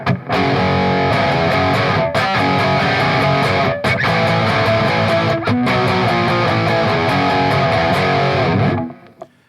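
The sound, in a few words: P90 electric guitar with distortion turned all the way up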